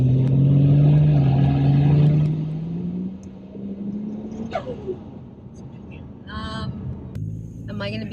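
A Ford XR6 Turbo ute engine on full-throttle kickdown gives a loud, droning note that climbs in pitch over a couple of seconds, then eases to a lower rumble with a few faint voice sounds.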